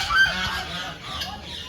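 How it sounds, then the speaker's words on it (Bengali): Geese honking in an enclosure at Swapno Bithi Park in Naihati: loud, nasal, close honks and squawks at the start, then continued fainter calling over outdoor background noise. "আর এখানে রাজহাঁস"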